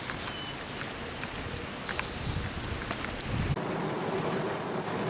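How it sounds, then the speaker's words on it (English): Steady rain shower pouring down on a bike trail along an old canal, a dense close hiss filling the whole stretch, with a low rumble in the first few seconds that drops away near the end. "I don't mind these scattered showers."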